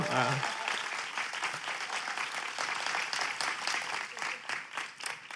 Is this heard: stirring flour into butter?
no